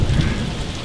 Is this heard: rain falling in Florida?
yes